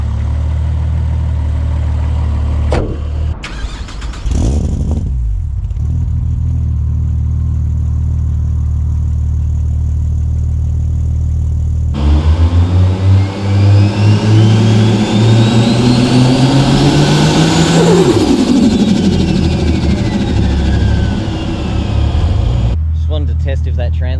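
A Holden VL with an RB30 engine, heard from the engine bay, idles with a steady low rumble, then revs hard with rising and falling sweeps before settling back, loud throughout.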